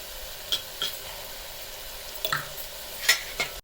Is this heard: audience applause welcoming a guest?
no